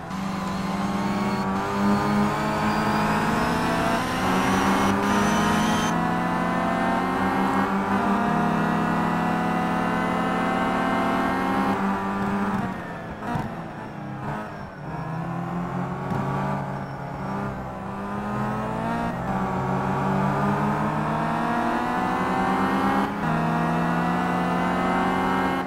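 WTCC touring race cars, including a BMW, roar around Zandvoort in the Simraceway racing game, their engine notes continuously loud and rising and falling through gear changes and revs.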